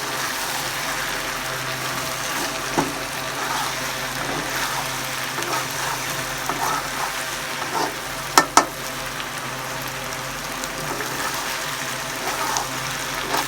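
Spice paste with fried loitta dried fish sautéing in a pan for a jackfruit seed bhuna, a steady broad sizzle with soft stirring scrapes throughout and a couple of sharp clinks near the end, no voices.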